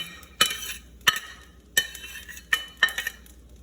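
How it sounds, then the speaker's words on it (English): Egg and bacon being tossed into spicy fried rice in a pan, heard as five sharp metallic clinks and scrapes of a utensil against the pan at irregular intervals over a soft sizzle. "you want to throw in the egg and bacon"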